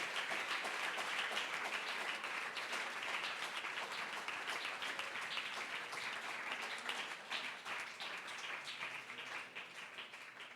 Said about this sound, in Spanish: Si usted quiere darle ese aplauso, lo puede hacer, pero recuerde que es para Él.